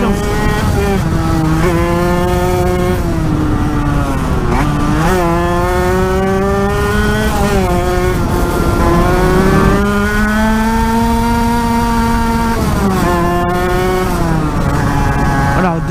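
An Aprilia RS4 motorcycle engine revs hard and loud up through the gear, dips briefly at the shift into second, then climbs again on back-country roads, a steady, continuous roar from start to finish.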